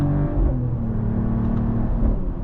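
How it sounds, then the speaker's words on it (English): A 2026 Mercedes-AMG GLE 53 Hybrid revs, its exhaust note a loud, rumbling rise and fall close by, with a couple of swells and no voices. "when you combine this with the exhaust note and pops and bangs"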